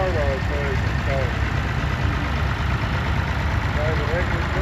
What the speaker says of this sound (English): 34 horsepower, 4-cylinder diesel engine there.